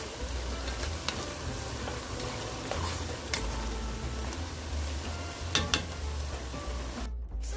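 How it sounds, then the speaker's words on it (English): Oregano stirred into a hot frying pan, a steady sizzle underneath with a few sharp scrapes and taps of the utensil against the pan, close and fairly quiet, no talking. "give it a good stir"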